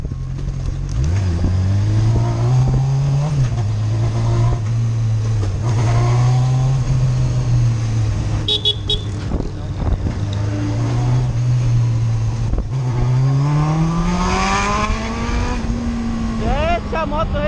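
A motorcycle engine drones loudly and close, revving up and settling repeatedly over its idle, with road noise and a voice speaking over it.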